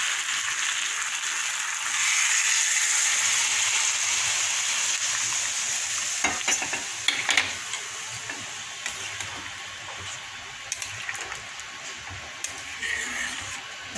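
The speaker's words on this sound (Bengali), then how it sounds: "দেখো মশলা দিয়ে সবজি দিয়ে একদম তেল ছেড়ে দিয়েছি, এবার আমি গরম জলটা দিয়ে দেবো" Hot water poured into vegetables frying in spiced oil, a steady hissing sizzle with bubbling and crackling that fades slightly, punctuated by a few utensil clinks.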